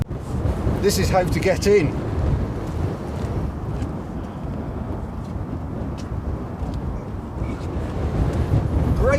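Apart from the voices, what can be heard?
wind buffeting the camera gimbal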